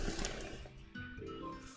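A sewing machine runs steadily as it top stitches fabric, a close, continuous motor whir with a brief shift in pitch partway through and no talking.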